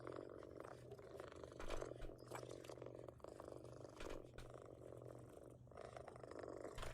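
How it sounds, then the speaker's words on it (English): Cats purr steadily and close up, a continuous low rumble with a few faint soft vocal sounds over a background hum, with no distinct meows standing out. "They're so talkative. Cats are so cute."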